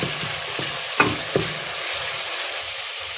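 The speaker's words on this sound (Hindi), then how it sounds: "मसाला जो है वो भून गया, तो थोड़ा सा इसे और पकाएंगे" Masala frying and being stirred in a pan for chicken qurma, a steady soft sizzle with a few close scraping clacks of the spoon, heard alone without talk.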